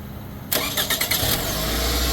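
A Toyota car engine that had a no-start fault being cranked by the starter, catching within about a second, and settling into a steady idle, loud and close.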